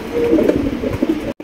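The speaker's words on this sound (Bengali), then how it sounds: "একদম বিগ সাইজের কবুতর।" Big-size pigeons coo on a pigeon breeding farm, a dense, continuous low murmur of several birds close by that cuts off briefly near the end.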